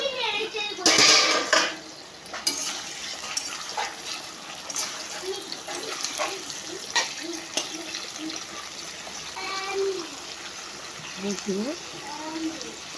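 A metal lid comes off a cooking pot on the stove with a sharp clank, followed by scattered utensil knocks and a steady kitchen background, with a voice speaking briefly in places.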